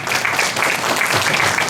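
Crowd applause for sponsors at a Hmong congressional campaign kickoff event, a dense, steady wash of many hands clapping that carries on evenly throughout, loud and close.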